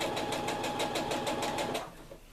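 A sewing machine stitches quilt-block fabric with a rapid, even rhythmic clatter of needle strokes up close, then slows and stops near the end.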